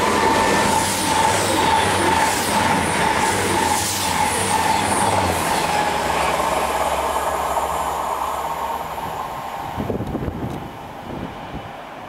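A Pendolino high-speed train races through Euxton station in Lancashire, a loud sustained roar of wheels and rushing air with a squeal that fades as it passes.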